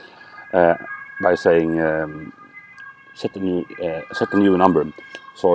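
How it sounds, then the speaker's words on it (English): A police car siren wails outside in a park, its rising and falling tones sounding faintly in the background beneath a man's close, continuous talking. "there's a police car outside here."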